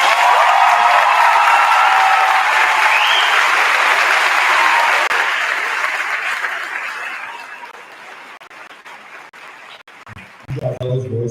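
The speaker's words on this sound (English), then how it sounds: "if you don't mind giving them a round of applause real quick" A graduation crowd applauds loudly for a graduate's parents, the dense clapping with scattered chuckles slowly thinning and fading, before a voice speaks briefly near the end.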